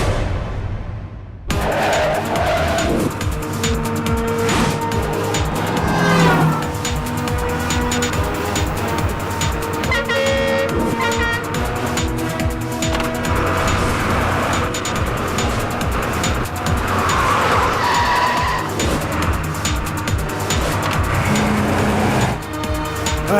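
A car chase in a Hindi-dubbed Kannada action film, with continuous loud engine roar, passing vehicles and occasional tire squeals layered under dramatic background music for over twenty seconds, with no speech.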